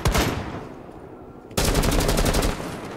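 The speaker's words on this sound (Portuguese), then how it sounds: "Que isso, que loucura é essa de tiroteio?" Gunfire in the video game Rainbow Six Siege: rapid automatic bursts, a short burst at the start, then a dense, sustained stretch of machine-gun fire after a brief lull, moderately loud.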